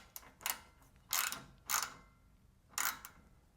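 A hand ratchet clicks in short bursts while tightening inverted Torx E5 bolts on a Craftsman snowblower, with five separate quick ratcheting strokes heard up close in a quiet workshop.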